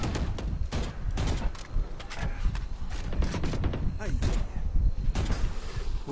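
Rapid gunshots in a first-person shooter game ring out in repeated sharp bursts, a close, busy volley of shots mixed with mechanical clicks, while players talk over the action.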